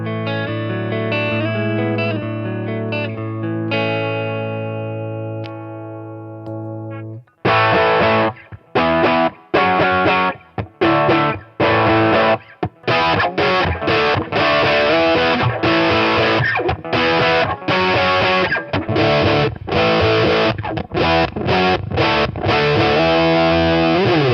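Electric guitar through a distortion or fuzz pedal: a sustained saturated chord rings out, then choppy, loud palm-muted riffing with abrupt stops and restarts, thick and gritty throughout.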